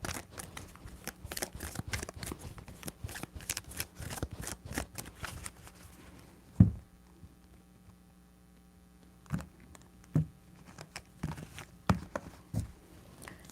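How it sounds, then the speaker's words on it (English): A deck of tarot cards is shuffled by hand in quick riffling bursts, then a few sharper, separate taps and slaps follow after a pause, close and fairly quiet. "3 shuffles."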